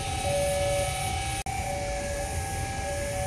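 A train rumbles steadily past a level crossing in the Bandung area, Indonesia, at close range while the crossing warning tone sounds in the background, with one brief dropout midway.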